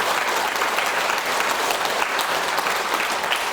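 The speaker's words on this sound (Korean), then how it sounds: "박수 소리 좀 더 크게 쳐도 돼요" A crowd at a Buddhist dharma talk applauds loudly and continuously, a thick, even wash of clapping hands that holds steady throughout.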